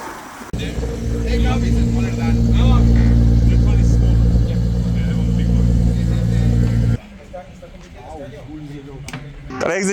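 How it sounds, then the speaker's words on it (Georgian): A race car running on E85 fuel at a track in Spain starts and revs loudly, holding a strong, steady engine drone for several seconds before dropping abruptly to a lower idle, with some talk nearby. "მანქანა დავქოქეთ E85-ზე"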